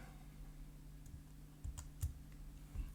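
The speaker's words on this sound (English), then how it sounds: "So I want you to press Control if you're on a Windows computer, or Command and the letter J." Computer keyboard keys are pressed for a Ctrl+J shortcut on a Windows machine, a few soft separate clicks over faint background hum.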